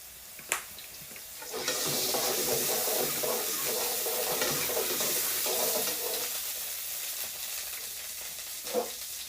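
Oil hisses and sizzles in a cooking pan, a steady close frying sound beginning after a couple of quiet seconds, with faint clinks at the start and near the end.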